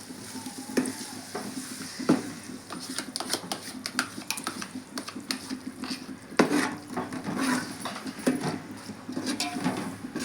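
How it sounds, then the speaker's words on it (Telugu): Boti curry mixed with yogurt sizzles in a pan while a spoon stirs and scrapes against the metal, giving repeated sharp clinks over a steady frying crackle, close and fairly loud with no talking. "ఇదంతా బాగా ఫ్రై చేసుకుందామండి."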